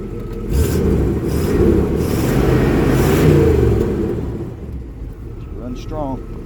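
A 1979 Pontiac Trans Am WS6 engine revs up into a loud, rumbling roar, holds, then settles back toward idle, close and alone.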